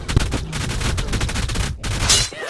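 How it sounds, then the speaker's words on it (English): Invisible turrets in the video game Ark fire rapid, dense bursts, a loud continuous rattle of shots with a brief gap near the end. "I got killed by invisible turrets."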